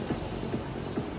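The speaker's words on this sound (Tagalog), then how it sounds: "Umulan talaga, ang lakas eh." Heavy rain pouring outdoors at The Tent on the C5 extension, a dense, steady wash of broadband hiss with no pauses and no voices.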